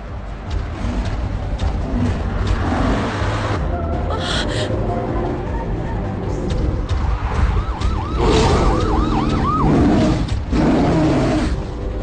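An emergency vehicle siren wails in repeated rising and falling sweeps in a dinosaur adventure film, mixed with roars, gasps and loud chaotic action noise.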